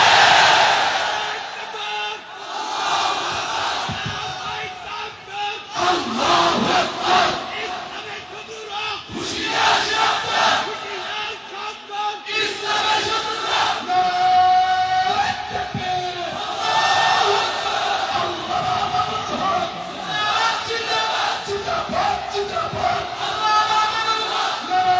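A large crowd at a religious rally chants slogans for freedom. The loud massed voices rise and fall in repeated waves across the whole stretch, with no break.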